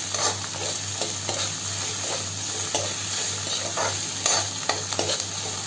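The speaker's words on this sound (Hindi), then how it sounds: "और अब इसे अच्छे से आपस में मिलाते हुए चला लूंगी मैं।" Okra sabzi being stirred in a pan, a spatula scraping with soft rhythmic strokes over a steady sizzle of frying, close and moderately loud with no talking.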